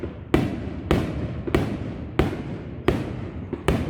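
Outdoor fireworks going off in a rapid series of six or seven loud, sharp booms spaced about half a second apart, each trailing into a short crackle, with no voices.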